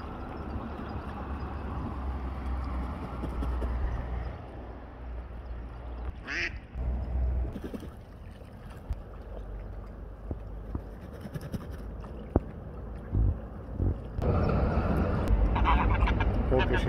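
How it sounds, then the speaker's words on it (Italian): Mallard ducks quack in short bursts at Lake Toblino, Trentino, amid steady outdoor background noise and a voice talking over much of it. "Qua ci sono le coppie di germani reali, anatre selvatiche."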